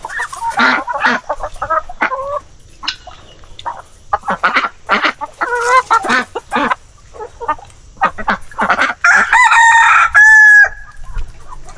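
Heritage chickens on a mini farm clucking in rapid irregular bursts, with a loud rooster crow near the end, close and prominent.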